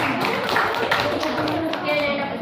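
An audience clapping their hands at the close of a talk, a brief, steady round of applause with some voices mixed in.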